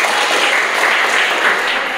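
A class of students clapping together in a room, a continuous even patter of many hands at fairly close range, with no talk over it.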